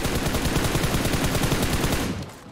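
Rapid automatic gunfire from an explosive-round weapon in the mobile game PUBG Mobile: a dense, evenly paced burst of shots rattles on for about two seconds, then cuts off abruptly.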